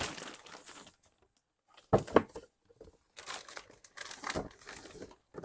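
Plastic packaging for a dupe of a Louis Vuitton monogram carryall bag crinkles in several bursts, with short quiet gaps between them; the sharpest rustle comes near the middle, and the handling sounds close by.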